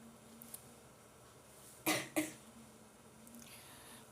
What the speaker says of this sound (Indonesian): Masih batuk dikit-dikit